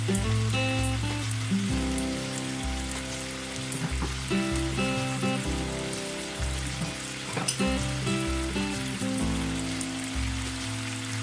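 Marinated chicken pieces sizzle steadily in a soy-sauce marinade in a pan for a Chinese chestnut and mushroom stew, a constant crackling hiss under loud background music.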